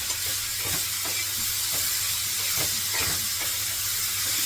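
Radish vegetable hisses and sizzles steadily in a pan as it steams, with soft stirring scrapes recurring every half second or so, close and continuous with no talk.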